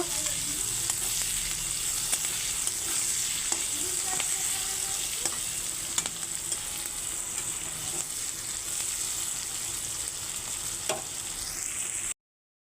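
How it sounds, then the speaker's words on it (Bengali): Onion fries in a pan for a light rohu fish curry, with a steady close crackling sizzle and scattered clicks of stirring, with no talking until it cuts off at the end. "এই দেখুন পেঁয়াজটা অর্ধেক ভাজা হয়েছে"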